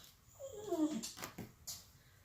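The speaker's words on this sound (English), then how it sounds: "My dog wanting to go outside." A dog wanting to go outside whimpers indoors, giving a thin rising and falling whine followed by a couple of short sniffing and snorting sounds, fairly faint.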